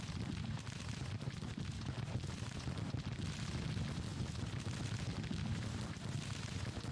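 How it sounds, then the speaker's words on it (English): Distant artillery fire in Grand Tactician: The Civil War, a continuous dull rumble of overlapping booms on a Civil War battlefield, low and muffled with no distinct individual shots standing out. "Artillery is still firing on someone."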